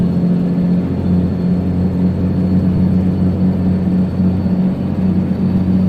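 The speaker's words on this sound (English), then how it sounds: "engine brake working hard." Steady, loud low-pitched droning rumble of a big-rig truck's engine brake in American Truck Simulator, holding continuously with no breaks and no talking.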